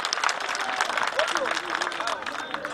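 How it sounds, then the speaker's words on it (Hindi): An audience at a public event applauds to welcome a senior journalist, producing a dense, steady wash of clapping with a speaker's voice carrying over it through the crowd. "जरा जोरदार तालियां बजाकर स्वागत करें"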